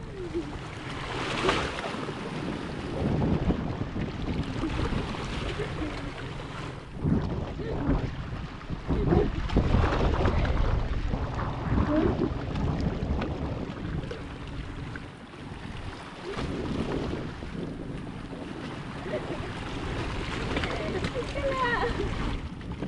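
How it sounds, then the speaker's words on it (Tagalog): A new motorized outrigger boat with an 8 hp engine runs at sea, a continuous low engine drone mixed with wind buffeting and water wash, with people talking over it. "Sa wakas ay nagkaroon din kami ng bangka de makina."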